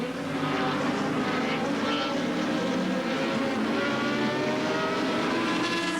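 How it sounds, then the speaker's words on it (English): Sports racing cars on an Australian circuit, one with a Ford Cosworth 3-litre engine, roar past in a steady, loud, high-pitched engine howl that fills the whole stretch. "two very fast and powerful cars. Quite different, though, in the sort of engine response that they give"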